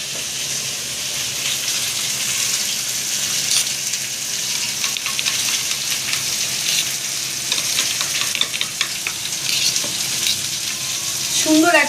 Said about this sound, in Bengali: আর এদিকে আমাদের ফুলকপি প্রায় হয়ে আসলো ভাজা।